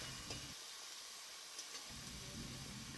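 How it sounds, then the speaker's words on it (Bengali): Tomatoes sizzle in a pan as they are stirred in with spices, a soft steady frying hiss with faint stirring, quiet and close, no talking. "টমেটোকে ভালো করে নাড়াচাড়া করে মশলার সঙ্গে মিশিয়ে দিচ্ছি"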